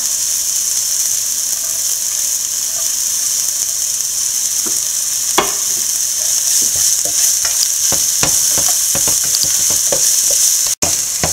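Onion sautéing in a pan with green chili, ginger, garlic and curry leaves for chicken cutlet, a steady close sizzle and hiss under repeated scraping stirs and clicks of a spatula, with no voices.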